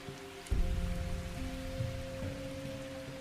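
Heavy rain falls on a mountainside, bursting in with a low thump and then settling into a dense, steady downpour that continues without any speech.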